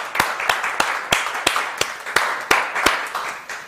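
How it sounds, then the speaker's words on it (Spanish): A studio audience welcomes a guest with applause, a loud close clapping in a sparse, fairly regular rhythm of sharp individual claps over a continuous wash of crowd clapping. "Lo recibimos con un aplauso"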